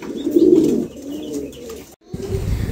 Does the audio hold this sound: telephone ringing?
no